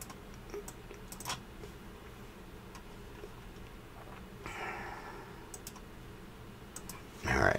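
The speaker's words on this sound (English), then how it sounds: "So let's click there and then click that." Several sharp computer mouse clicks with a few keyboard-like taps, close and fairly quiet over a steady background hum in a lecture setting.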